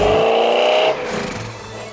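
A muscle car with a rebuilt T5 transmission and T-tops rolling down the street, its engine droning loud and close, then easing off to a lower, rougher rumble as it shifts.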